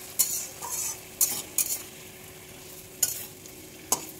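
Potato and kakrol being sautéed in masala in a pan, with several short scraping stirs of a spatula against the pan over a low, steady sizzle, with quiet gaps between the strokes.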